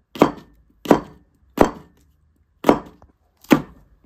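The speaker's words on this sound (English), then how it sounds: "And now I am cutting them into small bits, uniform length." A knife chopping lemongrass on a wooden board: five close, separate thunks at uneven intervals, each sharp and short.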